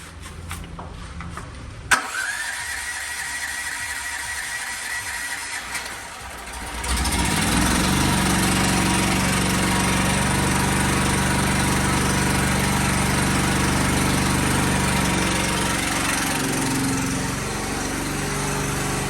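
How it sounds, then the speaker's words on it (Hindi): A heavy duty generator cranks with a short rattle, catches, and settles into a loud, steady engine drone that stays constant and close, with no talking. "अब इसके बाद मैं इस जनरेटर को स्टार्ट करूँगा"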